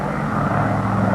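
A McDonnell Douglas DC-6 four-engine propeller airliner in flight produces a steady, loud, droning engine roar with a low throbbing hum, continuous and even throughout with no other sounds.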